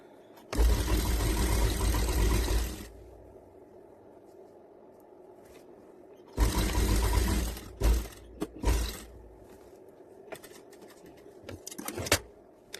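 Sewing machine stitching a straight seam along a farshi salwar waistband belt, two close, loud runs of fast mechanical whirring separated by quiet pauses, then a few short bursts and handling clicks.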